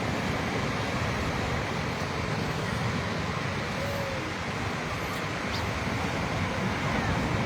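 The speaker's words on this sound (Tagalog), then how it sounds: "Bumigit na ng alon na." A constant wash of ocean surf roars nearby, broad and steady with no distinct breaks between waves, at a beach in Binmaley, Pangasinan, Philippines.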